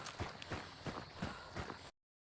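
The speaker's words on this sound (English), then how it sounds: "Footsteps directly to my right where he is, running footsteps." Running footsteps in Hunt: Showdown, a rapid steady series of close, heavy thuds, about two per second, heard alone for under two seconds.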